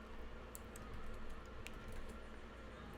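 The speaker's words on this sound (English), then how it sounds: "I'm just typing the lyrics" Quiet computer keyboard typing of song lyrics, soft scattered keystroke clicks in an irregular rhythm over a low, steady room hum, no voices.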